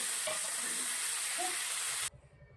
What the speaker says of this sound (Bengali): এবার দেবো পেঁয়াজ কুচি। পেঁয়াজটা একটু লাল লাল করে ভেজে নেব।